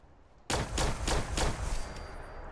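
Gunfire in Fallout 76, with a sudden loud rapid burst of about four shots that rattles on for a moment and fades into a lingering rumble.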